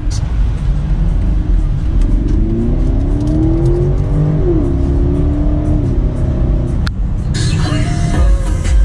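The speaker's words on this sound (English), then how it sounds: "But you can hear that the rumble is artificial. It's pumped in here." Synthetic engine rumble played through the speakers inside a BMW X5 cabin on an autocross track, a steady low drone with rising revving tones, continuous and fairly loud, ending in a sharp transient and shift in sound.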